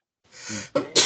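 A single close sneeze: a soft intake of breath followed by two sharp bursts of air.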